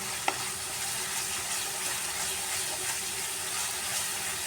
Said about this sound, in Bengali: মশলাটাকে আরেকটু সময় নিয়ে কষাচ্ছি